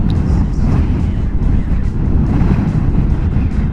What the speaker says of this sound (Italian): Il vento soffia da sinistra